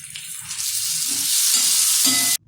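Salted pea stuffing for Shegaon-style kachori sizzles loudly in a pan, a dense continuous frying hiss with soft stirring scrapes underneath that cuts off abruptly at the end.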